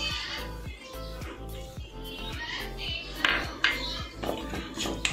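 A spatula clinks and scrapes in a pan while mixing the Konkani dish sukat with salt, green chillies and coriander; the scraping comes in repeated close strokes over a steady tonal background hum.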